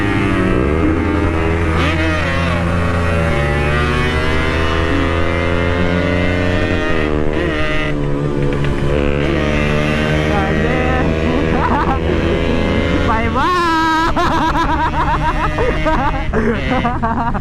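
A Yamaha RX King two-stroke motorcycle engine drones loud and close while riding, its pitch rising and falling with throttle changes and a sharp rev near the end, with a rider's voice over it.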